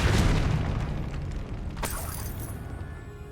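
A Confringo blast spell exploding in Hogwarts Legacy, a heavy booming burst up front that decays with a crackling, shattering tail and a sharp crack partway through.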